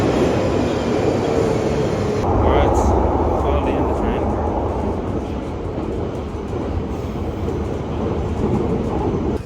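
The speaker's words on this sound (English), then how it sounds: "I made it to the Piccadilly line." A London Underground Piccadilly line train rumbles loudly and close throughout, with a steady low roar and faint wheel squeal, as if heard from inside a moving carriage.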